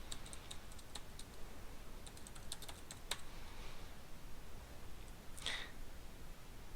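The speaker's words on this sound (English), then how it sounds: "and then you can just start typing" Light, sparse taps on a computer keyboard during Photoshop text entry, quiet and close over a faint room hiss, ending with a brighter click near the end.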